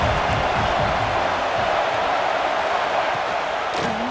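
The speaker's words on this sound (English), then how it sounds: "This crowd trying to make life miserable for this offense." Loud, dense stadium crowd roar in the EA Sports College Football 26 video game, a continuous wash of noise aimed at the offense that holds steady throughout.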